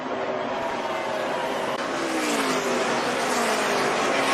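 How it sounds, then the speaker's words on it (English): A Chevy race car at Texas Motor Speedway, its engine a continuous loud high-revving drone with rising pitch, heard alone and close, as if from onboard. "But Jimmy Johnson has driven the wheels off his Chevy, and he will win at Texas Motor Speedway."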